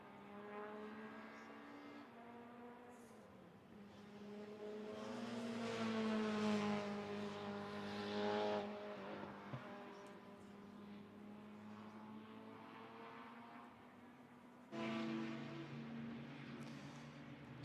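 A touring race car in the Heritage Touring Cup at Spa powers out of a long left-hander, its engine note climbing and swelling as it accelerates and then fading into the distance.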